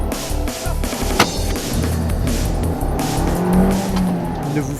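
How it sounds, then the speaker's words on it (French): A Fiat 500 Abarth esseesse accelerates hard, its engine roaring loud and close from inside the car as the pitch rises through the gears, with a brief tire chirp and a sharp thump partway through. "nous ne sommes pas dans une voiture de rallye, mais bien à bord de la petite 500 Abarth SC&C"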